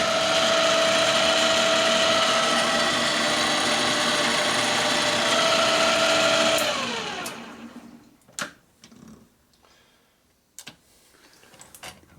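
Cylinder boring machine running during a 1958 Harley-Davidson panhead 74ci FL top-end rebuild, a steady mechanical clicking and whirring drone that winds down and stops, followed by a few sharp metallic clicks and knocks.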